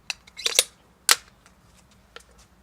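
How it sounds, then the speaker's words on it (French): A GL 06 airsoft grenade launcher fires a CO2-powered 96-BB grenade, giving a few sharp, dry cracks and pops with short gaps between them, fairly close, followed by fainter ticks in a quiet space. "test de tir avec le lance-grenade. On commence par une grenade 96 billes si je ne me trompe pas"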